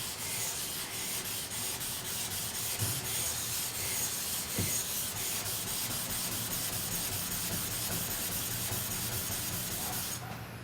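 An 800 grit sharpening stone rubbing steadily against a spokeshave blade, a continuous close scraping hiss with faint knocks as the blade is worked back and forth, no talking.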